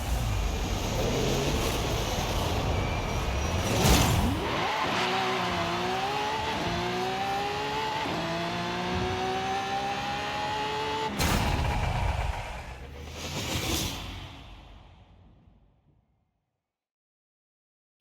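A drag car in Forza Horizon 5 launches down a quarter-mile strip, engine revving through rising gear pulls with distinct shifts, then a loud burst and fading roar before falling silent.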